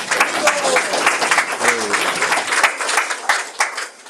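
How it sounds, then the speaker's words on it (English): An audience at a Krishna Janmashtami gathering in a cultural center applauding with steady clapping that tapers at the end, voices audible in the room. "One big round of applause, please"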